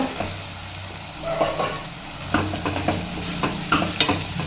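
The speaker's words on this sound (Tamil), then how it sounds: "அதையும் சேர்த்து நல்லா ஒன்று சேர வதக்கி விட்டுக்குங்க" Chayote sizzles and crackles in a hot pan for kootu while a utensil stirs and scrapes through it with occasional louder clatters.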